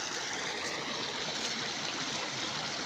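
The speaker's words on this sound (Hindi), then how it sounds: "ये नाले हैं, गंदे नाले और साफ़ नाले, ये भी भरे पड़े हैं पानी की वजह से।" Rainwater after a heavy night storm rushes through full village drains, a constant broadband hiss of flowing water, fairly faint and unbroken.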